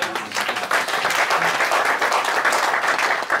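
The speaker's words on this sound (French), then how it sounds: "Donnons une acclamation." A church congregation breaks into sustained applause and acclamation, a dense, fairly loud wall of clapping with crowd voices mixed in.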